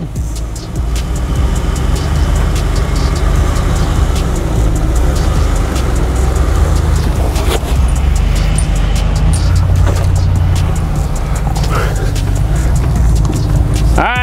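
A Jeep hauling a UEV 4x4 off-road trailer slowly up rocky steps on a Moab trail, its engine giving a steady, loud low rumble throughout with faint occasional voices and some crunching clatter.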